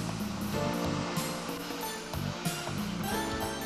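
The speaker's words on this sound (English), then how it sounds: "This is the cleaning operation of the net screen at the water intake." A high-pressure water jet gun blasts the net screen at a water intake, a loud continuous hissing spray with rhythmic surges, mixed with background music.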